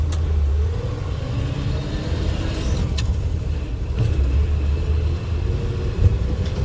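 An International 1210 tractor engine idles steadily nearby, a low, even rumble with a constant mechanical drone and no revving.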